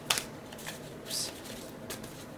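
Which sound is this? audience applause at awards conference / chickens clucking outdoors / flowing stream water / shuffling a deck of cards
shuffling a deck of cards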